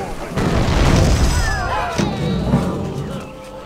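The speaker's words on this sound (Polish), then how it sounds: "Teraz armaty." Cannons firing in the strategy game The Settlers 7 while attacking an enemy's lands: deep, rolling booms blend into a continuous rumble under someone speaking.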